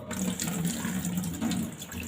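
Water pours steadily into a kitchen sink drain strainer that has just been sprinkled with salt, a continuous close rushing splash with no pauses.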